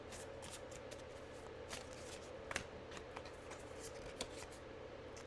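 Tarot cards are shuffled and drawn, giving a close, continuous soft riffling and flicking with a few sharper card snaps, no talking.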